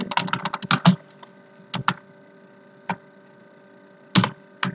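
Computer keyboard typing in short bursts of quick keystrokes separated by pauses, close and clear over a steady low electrical hum, with no voices.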